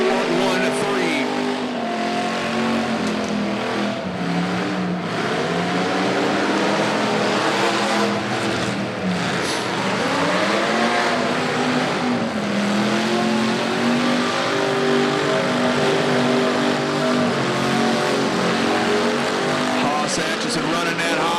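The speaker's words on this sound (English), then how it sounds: "Running that hot in that X car, spins around there on Simonton." Demolition derby cars at a county fair, with loud, steady engine roar and revving that rises and falls throughout as the cars spin around, while an announcer talks over the noise.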